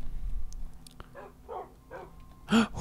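Dogs in the video game HEXXMINE give a few short, soft barks and yips spaced apart, followed by a louder bark at the end, with quiet game ambience between.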